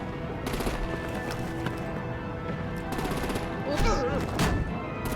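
Sustained machine-gun fire and artillery blasts from the Batman: The Enemy Within video game rattle in rapid repeated bursts throughout, with voices faintly underneath.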